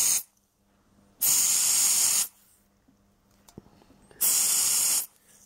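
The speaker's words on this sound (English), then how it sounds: "Now let's try cooling it down with a tin of freezer." Freezer spray hisses loudly from a can onto a capacitor on an LCD TV board, in two long bursts of about a second each with quiet pauses and small clicks between them.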